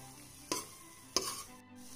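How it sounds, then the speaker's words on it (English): Curd and onions with spices cook in a pan under a low, even sizzle, marked by two sharp spatula scrapes against the pan. "you can then mix this really well with the onions"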